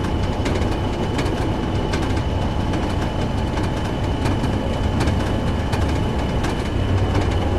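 A long, heavy oil train in Train Sim World runs on under its first brake application, a loud steady rumble of engine and wheels with faint periodic clicks, no talking.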